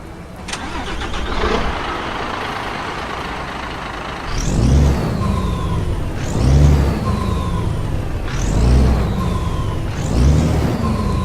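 A Volvo F16 truck engine in American Truck Simulator starts and revs repeatedly, each rise swelling then falling back with a whistling exhaust spool, in steady cycles with no talk.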